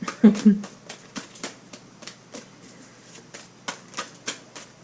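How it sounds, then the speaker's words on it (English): Oracle cards being shuffled by hand, a soft riffling and flicking of a deck in a series of light, irregular bursts, close and fairly quiet, with a couple of brief soft knocks early on. "I'm only going to shuffle a couple more times"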